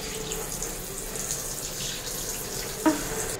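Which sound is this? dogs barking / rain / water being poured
water being poured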